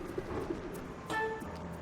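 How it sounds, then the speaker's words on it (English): Pigeons cooing in the video game Sly 2: Band of Thieves, a couple of soft low coos followed by a brief tonal game chime, faint and short. "So we have pigeons."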